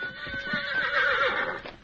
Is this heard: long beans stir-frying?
no